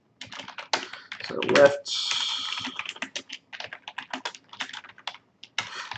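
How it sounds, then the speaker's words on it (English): Someone types steadily on a computer keyboard, with dense, quick key clicks running throughout and a few words spoken over them. "I find it hard to multitask when I'm typing"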